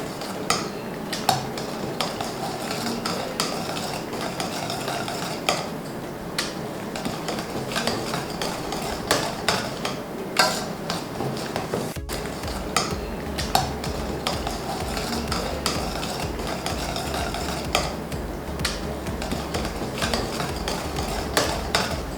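Pressure-cooked dal is mashed in the pot, heard as a long run of repeated scraping and knocking of a utensil against metal, uneven in rhythm, close up and without speech.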